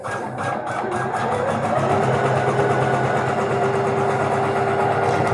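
A single-needle embroidery machine stitches a Halloween T-shirt, making a steady, loud mechanical whir with a fast, even clatter of the needle running without pause.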